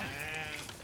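A sheep on a Tudor-era monastery farm gives a single wavering bleat. It is fairly faint and a little distant, and it trails off within a second.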